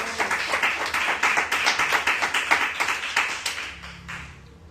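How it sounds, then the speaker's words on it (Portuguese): A church congregation claps in rhythmic unison, a steady run of sharp crisp claps that fades out toward the end, with faint voices underneath. "aplauda ao Senhor com o seu melhor"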